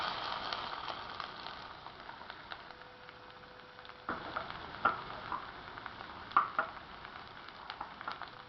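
Spinach paste is stirred into fried onions in a pan for palak paneer, giving a soft, steady sizzle with scraping spoon strokes that grow a little louder and more distinct toward the end.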